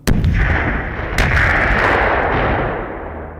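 Two heavy, booming blasts roughly a second apart during a military exercise, each followed by a long rumbling roar that slowly fades; loud and close, no voices.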